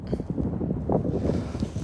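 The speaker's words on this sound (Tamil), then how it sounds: "காற்று வேறு ரொம்ப வேகமாக வீசுன்னு இருக்குது." Strong wind blows outdoors by the old city hall in Tallinn, Estonia, a steady, loud, low roar of gusts buffeting the microphone throughout.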